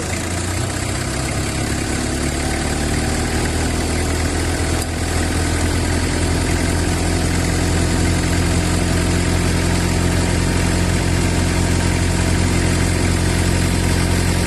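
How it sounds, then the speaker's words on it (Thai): A car engine runs continuously, close and loud, with a deep steady hum that rises slightly in intensity partway through. "เร่งเครื่องหน่อยนึง"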